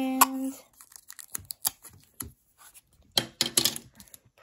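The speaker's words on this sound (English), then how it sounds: "Grab a piece of tape" A piece of tape is pulled and torn during puppet crafting, with scattered small crackles and taps that end in a dense burst of close ripping noises.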